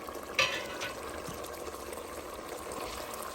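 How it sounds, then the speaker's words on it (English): Spoon or ladle stirring a stove top shrimp boil with sausages in hot liquid, a soft steady churning and sloshing with one sharper clink near the start, moderately quiet and without talk. "Stir it up."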